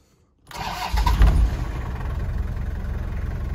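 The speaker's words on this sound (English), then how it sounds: "turn that all the way down, and restart the car" A car engine, its exhaust being patched, is restarted after near silence: a quick cranking catch, a brief rev, then a steady low rumbling idle that continues close by.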